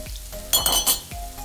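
Red onion goes into a hot pan with garlic and ginger, giving a short burst of crackling sizzle after a few soft clinks and knocks of a utensil against the pan.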